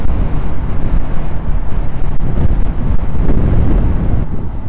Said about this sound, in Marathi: भयानक वारा आहे इकडं.